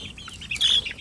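Gamefowl chickens of Kelso and Sweater breeds cluck in a quick, close run of short calls that rise to a louder squawk midway.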